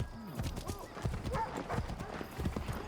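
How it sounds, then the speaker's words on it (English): Horse hooves clip-clop at a gallop in Assassin's Creed 3, a steady rhythmic pounding up close with a brief whinny, overlapping game voices and player talk. "You see a horse coming through."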